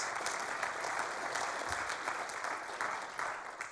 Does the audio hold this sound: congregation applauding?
yes